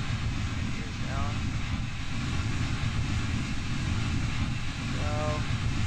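A player-built aircraft flying in Kerbal Space Program, a steady droning engine rumble with a continuous airy roar, constant and moderately loud, with someone talking over it.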